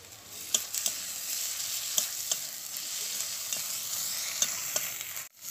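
Chilli and turmeric fried in oil with ginger paste, giving a continuous close sizzle punctuated by sharp spatula scrapes and taps against the pan, ending in a brief drop and clatter, with no talk.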